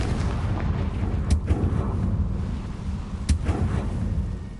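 A Confringo blast spell from a Harry Potter video game erupts over a dense, steady low rumble, with two sharp explosive cracks about two seconds apart.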